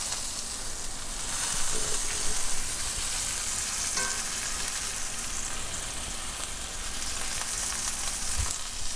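Pot roast meat sears in a skillet, giving a steady, dense sizzle that runs throughout, with faint clicks near the end.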